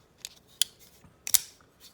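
A Hinderer folding knife flips open on its Tri-Way pivot, giving a few sharp, quiet metallic clicks and snaps spread over two seconds.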